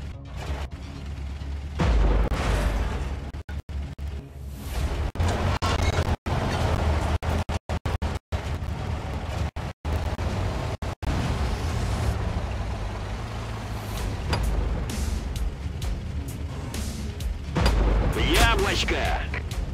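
Heavy tank cannon blasts in Armada Modern Tanks, a city-map battle with a BMP-1, booming repeatedly amid constant loud engine rumble and battle noise, with shouted voices over the top.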